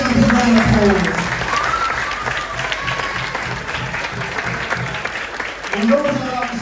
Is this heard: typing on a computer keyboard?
no